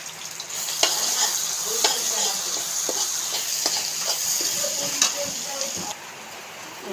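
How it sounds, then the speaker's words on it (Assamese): Ginger, garlic and spices fry in hot oil with a strong, continuous sizzle, broken by repeated scrapes and taps of stirring, then quieting slightly toward the end. "মই এতিয়া আদা নহৰু মছলাখিনি দিম।"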